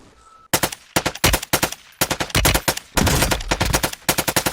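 Rapid bursts of automatic gunfire, likely from a video game, come in loud repeated volleys separated by short gaps of quiet.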